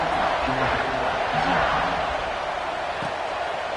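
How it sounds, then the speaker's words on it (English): Football stadium crowd buzzing after a score, a dense continuous roar of many voices at steady loudness, with some nearby talk mixed in. "this crowd is buzzing after that last score"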